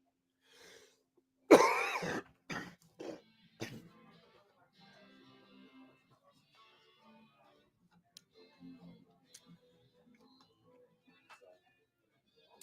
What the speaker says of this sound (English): when I get excited, I cough a little bit